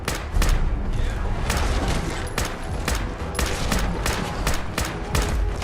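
Rapid gunfire in Fallout 4, loud repeated bursts of shots about every half second over a dense, noisy battle din, close and continuous throughout.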